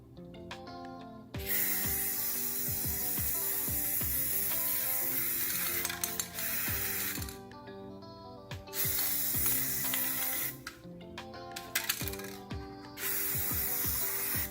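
Bursts of aerosol spray paint hissing steadily onto a decorative address post, broken by short pauses, with clicks of a trigger handle between sprays, close and fairly loud.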